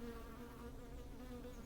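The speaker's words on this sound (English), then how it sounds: "There's a lot of bees hanging on the doorstep there." Honey bees crowd the entrance of a hive, giving off a steady, close, even buzzing hum with no voices over it.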